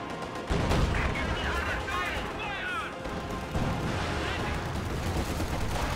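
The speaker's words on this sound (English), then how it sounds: "Panzerwerfer barrage." Panzerwerfer rocket artillery barrage in Company of Heroes, a dense rumbling onslaught of close blasts and gunfire with whistling rocket streaks, continuous and loud throughout, with talk over it.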